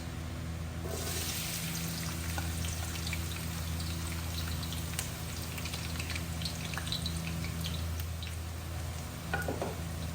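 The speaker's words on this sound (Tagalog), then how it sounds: "Naglagay na ako ng oil. Ipiprito natin tong onions." Sliced onions fry in hot oil for beef biryani, with a steady close sizzle and crackle under a low hum, occasional stirring scrapes and no talking.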